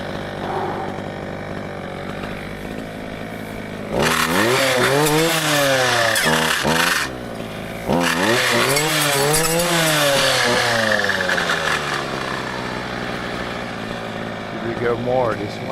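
Brushcutter with a dulling blade revving hard in loud surges as it chews through thick brush, easing back to a steady idle between cuts in an outdoor setting.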